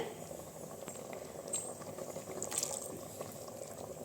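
Water splashes and bubbles steadily into a pan of meal maker (soya chunk) gravy, a soft continuous watery hiss with a brief brighter sizzle partway through, no talking.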